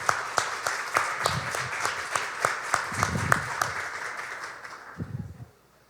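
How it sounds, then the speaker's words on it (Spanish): A church congregation gives a birthday round of applause, with distinct rhythmic claps across several seconds that fade out near the end alongside a brief murmur. "vamos a darle un fuerte aplauso"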